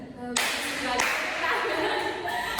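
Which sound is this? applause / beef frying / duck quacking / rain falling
applause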